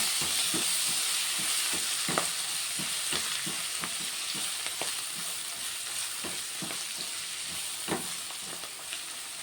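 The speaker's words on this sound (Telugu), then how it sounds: "ఈ ఉల్లిగడ్డలతో పాటే మెంతికూర కూడా వేసుకుంటే కొంచెం ఫ్రై అవుతుంది." Sliced onions and fenugreek leaves fry in a pan with a constant close sizzle, broken by repeated scraping taps from stirring at irregular intervals.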